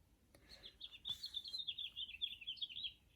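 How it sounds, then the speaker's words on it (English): A single small bird sings a quick, high chirping trill, a rapid run of bright notes lasting a couple of seconds, fairly close against a quiet background. "hear the birds?"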